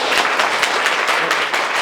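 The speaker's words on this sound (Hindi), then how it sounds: "ताली बजाइए।" A schoolroom class claps together in brief dense applause, a loud, close burst of many hands with no talking over it.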